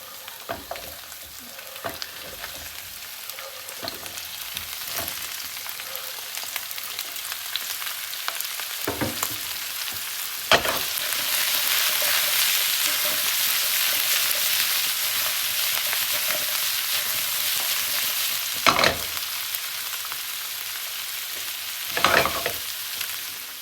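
Cauliflower fries in a pan over medium to low heat, a steady sizzle that swells louder midway, broken by occasional sharp clatters of stirring against the pan.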